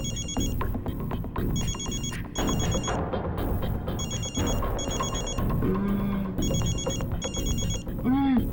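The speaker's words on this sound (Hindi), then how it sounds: "तारिका फोन" A telephone rings in repeated double bursts of a bright electronic trill, evenly spaced and fairly loud, with background music and a brief voice beneath.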